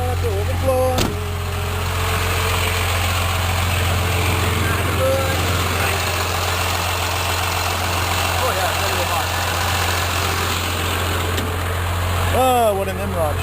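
A vehicle engine idles steadily to cool off in freezing winter weather, a constant low droning rumble up close, with a sharp knock near the start and brief voices near the end.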